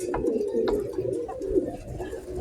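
Racing pigeons coo in a loft during a training race season, a steady, close, low rolling cooing that carries through the whole stretch with faint background noise.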